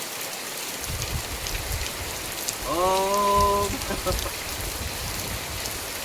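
Heavy rain falls steadily on farmland, a constant close hiss of drops, with a short voice calling out briefly midway.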